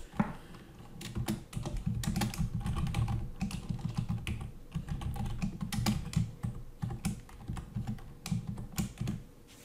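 Steady typing on a computer keyboard while entering C++ code, close and fairly quiet, with irregular bursts of key clicks and short pauses and no voices.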